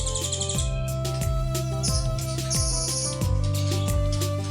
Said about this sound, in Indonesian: 4 atau 6 burung ini udah masuk.